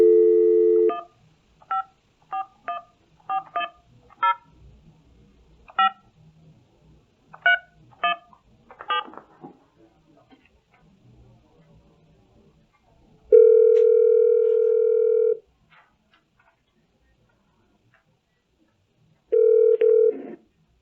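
Telephone keypad dialing tones beep in short bursts and clusters, followed by a steady dial tone that holds for about two seconds and then returns briefly near the end, while a call is placed to reach someone by phone.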